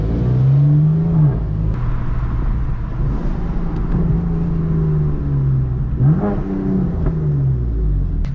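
A 2018 BMW M4 engine and exhaust rise and fall while driving, with revving pulls, gear changes and a deep close rumble heard from inside the car.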